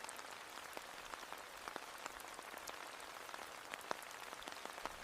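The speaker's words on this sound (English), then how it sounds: "A light spring rain is falling." Light spring rain patters onto a lush wildflower meadow, a soft continuous hiss of drops with occasional crisper close impacts, gentle and unbroken throughout.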